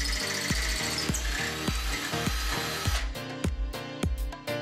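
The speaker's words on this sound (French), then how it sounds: "Commencez par un foret de plus petit diamètre, puis optez pour un plus large au diamètre définitif." Power drill boring through a wall tile with a bit, a loud continuous grinding whine with rhythmic pulsing that turns into sharper, choppier bursts near the end.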